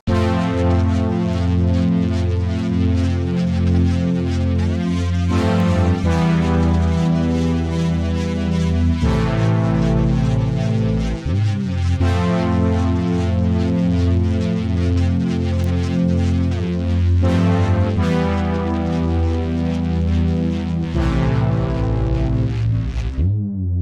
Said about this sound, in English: I played this lead melody on it. And so it's gonna sound like this.